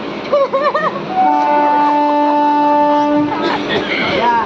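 A train runs with a continuous loud rumble, and a long steady horn-like tone sounds through the middle. Brief voice-like sounds come at the start and near the end.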